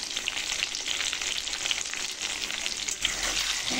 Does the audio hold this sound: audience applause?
no